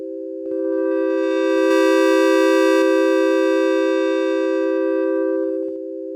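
PPG 360 Wavecomputer digital wavetable synthesizer holding one steady, loud tone whose bright upper harmonics shift and swell as it sweeps through the 64 waves of a wavetable, then fades out cleanly.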